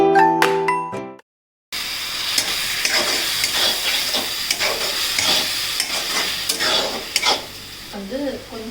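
Mushroom biryani masala sautéed and stirred in a pan, a steady sizzle with scraping stir strokes and occasional metallic clinks of a spoon against the vessel, close and continuous after a brief pause.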